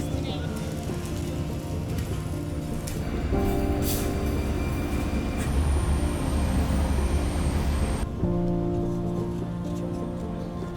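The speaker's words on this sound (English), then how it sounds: "Running very smoothly as well. This locomotive is 130 tons." A 130-ton locomotive rolls along rails in a steady loud rumble with clanking and rattling of wheels, the tone shifting as it moves, with a high whine partway through and no talk.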